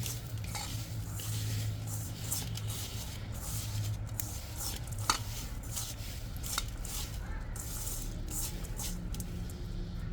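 Chicken being hand-mixed with salt, coriander, turmeric and chili powder in a bowl, giving soft, steady squishing and light clinking scrapes at close range, fairly quiet throughout.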